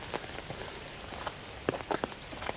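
Heavy rain patters on surfaces around a hiker climbing the zigzag path to the Hallstatt Skywalk, a steady hiss broken by close, sharp drips and taps, with no talking.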